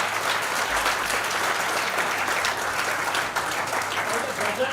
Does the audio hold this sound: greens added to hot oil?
no